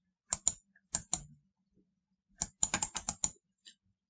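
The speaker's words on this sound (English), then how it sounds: "the fillet command, we're going to type in the R for radius and type in 13." Bursts of keystrokes on a computer keyboard while entering an AutoCAD fillet command, two short quick groups of crisp clicks separated by a pause, close and alone in quiet.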